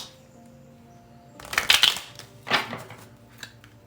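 Archangel oracle cards being shuffled by hand, two quick riffling bursts a second apart followed by a soft tap, crisp and close in an otherwise quiet room.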